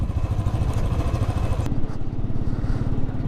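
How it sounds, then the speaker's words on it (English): A Yamaha R15 motorcycle is ridden on a road near Damdama Lake, its engine giving a steady, close, buzzing drone that holds throughout without a break. "Whoa, bike is again slipping a lot."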